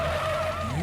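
Car in an animated scene reversing fast, its tyres screeching in one sharp, loud, continuous skid that lasts under a second, with no talk.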